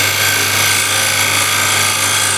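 Skew chisel cutting wood on a lathe, a steady, close rasping scrape over the low hum of the spinning lathe, continuous and unbroken.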